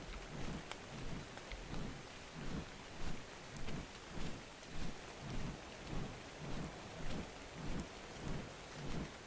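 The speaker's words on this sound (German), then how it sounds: "Hat gerade angefangen zu regnen." Steady rain and repeated low rumbling thunder in a stormy scene of the video game ARK Survival Evolved, the rumbles returning in an even rhythm of roughly one per second under a constant hiss of rainfall, with no talking.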